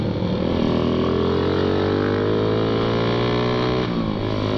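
A Suzuki Satria FU motorcycle fitted with a dB killer in its exhaust revs steadily, its engine pitch climbing smoothly then dropping near the end, loud and close with no talking.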